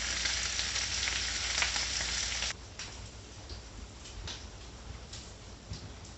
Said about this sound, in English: Bacon's coming along real good.